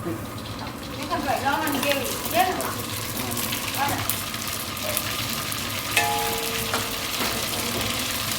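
Dried red chillies, bay leaf, mustard seeds, cumin and asafoetida sizzle and crackle in hot oil with a steady, close hiss, under a person talking throughout.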